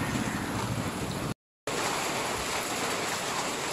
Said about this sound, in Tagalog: medyo humina na po yung tulo ng ulan